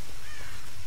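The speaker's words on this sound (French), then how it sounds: "Ah, des oiseaux." Crows cawing in the Tomb Raider video game, a brief harsh call buried in a loud, dense wash of game ambience.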